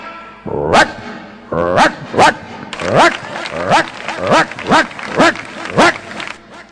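A voice imitates a dog, barking in a run of about nine loud, evenly spaced woofs, with a brief opening bark before the steady series.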